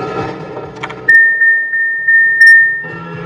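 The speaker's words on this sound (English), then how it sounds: "What you are hearing is the rear seat reminder." A 2018 Cadillac Escalade ESV rear seat reminder sounds a steady electronic chime tone with a few short repeated pulses, clear and close over quiet cabin noise.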